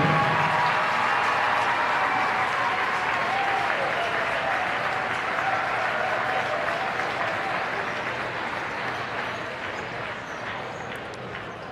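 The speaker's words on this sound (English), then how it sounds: "How about a big round of applause for Solaire Starks for this special accompli" Sustained crowd applause and cheering fills a high school girls basketball gym, steady and loud for about twelve seconds before tapering slightly, with a few voices calling out in the crowd.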